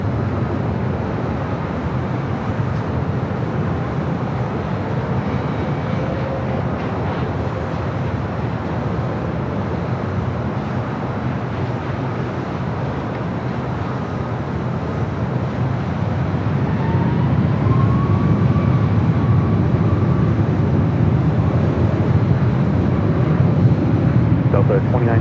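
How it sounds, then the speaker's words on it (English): A Copa Boeing 737 MAX 9 takes off from runway 24 left at LAX, heard as a broad, steady jet roar that builds and swells louder toward the end, with talk going on beneath it. "Copa 737 MAX 9 and getting ready for a takeoff on 24 left."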